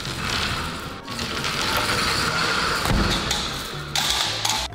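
A large metal hangar gate mechanism grinds and rattles steadily as it closes, with a heavy clunk partway through and more clattering toward the end.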